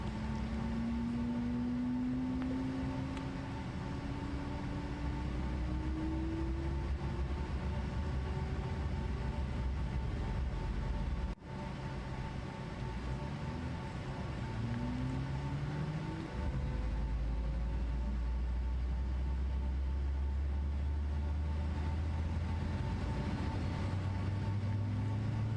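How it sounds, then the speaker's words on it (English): Boeing C-17 Globemaster engines starting up in Microsoft Flight Simulator, a steady turbine drone with slowly rising whine tones and a deepening low rumble building over time. "Okay, so little engine startup."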